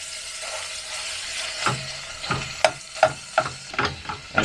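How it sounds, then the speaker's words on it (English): Ground beef frying in a saucepan, a steady close sizzle broken by a run of sharp scraping stirs and clacks in the second half. "So let's get this ground beef cooked up and then we can go on to the next step."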